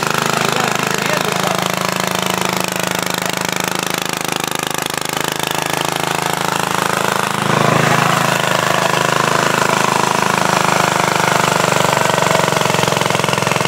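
An antique walk-behind tractor engine runs steadily at close range, a dense, constant mechanical roar that holds even throughout with a slight shift in tone midway.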